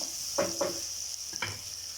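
Tomatoes sautéing in a pan for fish biryani sizzle steadily as a spoon scrapes and stirs them in three short strokes over a constant frying hiss.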